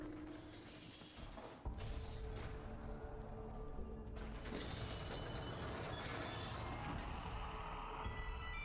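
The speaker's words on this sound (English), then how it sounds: "It's kind of wild that it's a train." Train in the video game Warframe rolling along with steady mechanical rumble and ratcheting clatter, a sharp jolt partway through then continuous loud running noise.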